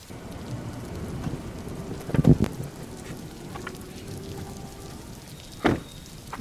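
Heavy rain pours at night in a continuous dense patter, with a couple of sharp close cracks of thunder breaking through the steady downpour.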